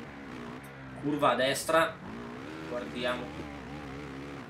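A motocross motorcycle engine in MXGP at the Beto Carrero track in Brazil hums with a strained, rising and falling drone throughout, steady in loudness, while a commentator talks over it.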